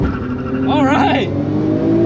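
A car accelerating in a drag race gives a rising engine roar heard from inside the cabin, with a brief swelling rev over a steady low drone and road noise.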